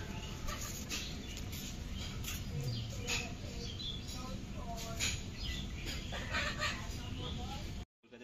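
Pigeons at a bird market, faint cooing and fluttering chirps scattered under a busy crowd murmur and voices talking nearby.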